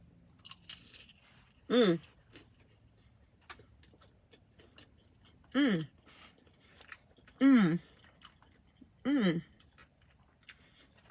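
Four loud crunchy bites and chews into a fried chicken tender, each a sharp burst separated by a few seconds of quiet, close to the mic, with faint background noise in between.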